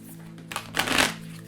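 Oracle cards being shuffled by hand, a brief papery riffle that builds to a fuller flutter and then fades, heard over a faint steady hum.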